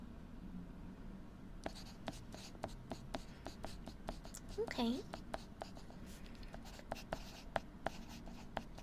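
Pencil scratching on paper close up during a medical-checkup roleplay, a steady run of short dry strokes and taps throughout, with a soft voice speaking briefly in the middle.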